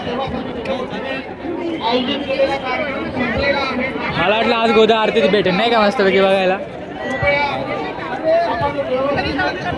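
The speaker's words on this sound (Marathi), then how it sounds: "आता पुलावरतीच किती गर्दी" Dense crowd hubbub on a bridge at a busy riverside evening aarti gathering, many overlapping voices close around, with someone talking over the steady babble throughout.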